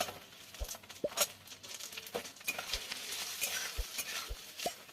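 Chopped onion, garlic and pre-cut green chillies hiss and sizzle in hot oil in a pan for pui shak chorchori, with a steady fry punctuated by occasional stirring taps and clinks of a spoon against the pan.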